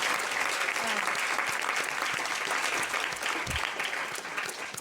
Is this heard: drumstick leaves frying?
no